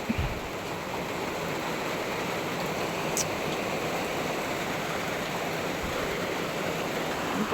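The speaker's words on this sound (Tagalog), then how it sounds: "Grabe ang tulo." Rainwater pouring and dripping through a leaking roof into basins inside a house during heavy rain, a continuous dense hiss of falling water filling the room at steady loudness, with no talk.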